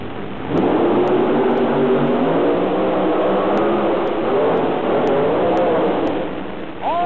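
The rear-mounted engine of the Grave Digger monster truck revs loudly and powerfully, a sustained rumbling growl with rising pitch toward the end, no talking.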